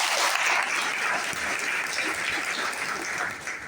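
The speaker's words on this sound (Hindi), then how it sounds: "ऐसे हमारे ग्रेट सोनू सर के लिए जबरदस्त ताली" An audience in a hall at a stage event bursts into loud, dense applause, a continuous crackle of many hands clapping that holds steady and tapers slightly toward the end.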